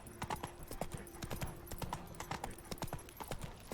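Hooves of the horse Roach clip-clop steadily in The Witcher 3, a brisk, continuous rhythm of hoofbeats at moderate distance with faint background ambience and no one speaking.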